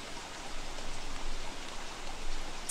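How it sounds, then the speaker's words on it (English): Steady hiss of rain falling in the survival game Don't Starve, an even wash of noise that rises and falls gently, moderately loud and with no voices. "on top of the rain making you wet, it also dampens your fire"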